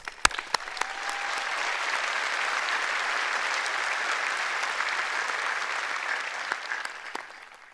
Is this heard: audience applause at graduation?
yes